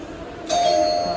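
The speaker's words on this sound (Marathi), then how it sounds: "बेल बजा वापस." A single electronic doorbell chime rings out after a moment of quiet and keeps sustaining to the end.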